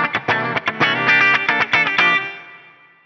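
Clean electric guitar tone from an Axe-Fx with the flanger off, a quick run of picked notes and chord stabs that ends in a ringing decay, close and alone.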